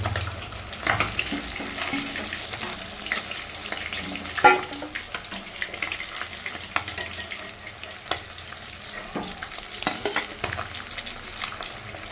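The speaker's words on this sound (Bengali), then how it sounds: "মাছগুলোকে লাল লাল করে ভেজে নিয়ে অন্য একটা পাত্রে তুলে নিচ্ছি।" Fish frying in hot oil for a Bengali-style fish curry, a steady close sizzle and crackle that runs throughout, with occasional utensil clinks and stirring scrapes and no talking.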